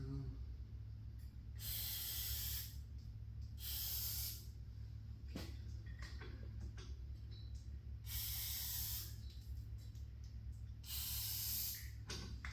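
WD-40 lubricant is sprayed on squeaky gym equipment in four hissing bursts, each about a second long, spaced a few seconds apart over a low steady background.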